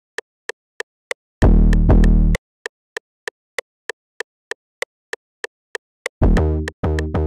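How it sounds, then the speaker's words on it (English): Second 808 bass pattern from an FL Studio alien/supertrap-style beat, heard as two heavy sustained distorted 808 hits over a steady ticking metronome-like click pulse, loud and alone with no voices. "So here is the second 808."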